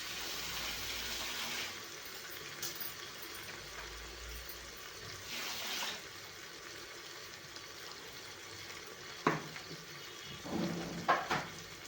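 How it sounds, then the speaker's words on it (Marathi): Potato, cauliflower and carrot are rinsed under running water, a faint steady splash and trickle with a couple of brief gushes and light knocks toward the end, no voices. "ह्या सगळ्या भाज्या आपल्याला धुवून टाकायच्या बटाटा फ्लावर गाजर"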